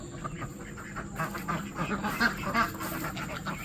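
Ducks quack repeatedly in a garden near a chicken house, a cluster of nasal calls close by, while a person speaks over them.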